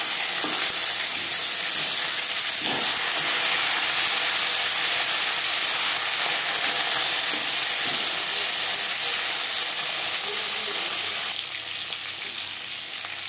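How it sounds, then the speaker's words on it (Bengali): Bhetki fish fries in hot oil in a pan, giving a loud, steady sizzle and hiss throughout, with a few faint clicks of handling and no voices. "আমি একটু কড়া করেই মাছ ভেজে নিচ্ছি"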